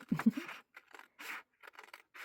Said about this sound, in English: I think it's probably easier to use scissors to cut the straight line